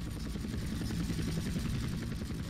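Helicopter rotor and engine drone in the game GTA San Andreas during the flying-school mission, a loud, dense, steady whirring roar that holds without a break.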